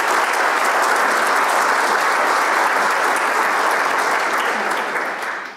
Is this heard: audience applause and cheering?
yes